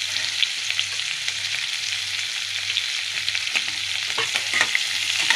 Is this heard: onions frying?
yes